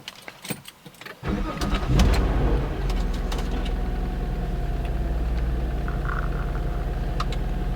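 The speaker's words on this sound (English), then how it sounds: "this is a cold start. And I want you guys to hear it." A 2004 Nissan Maxima engine cranks and fires on a cold start, then settles into a steady, even idle rumble heard close up, with a few faint clicks over the top.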